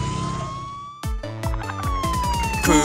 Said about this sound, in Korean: 구급차가 달려요.